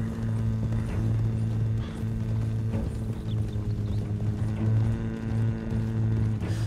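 Steady rhythmic hoofbeats of a horse at a trot in Red Dead Redemption 2, close and continuous under a low droning game soundscape, no talking.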